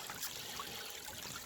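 Water runs steadily through a gold sluice outdoors, a soft continuous trickling wash with no talk over it.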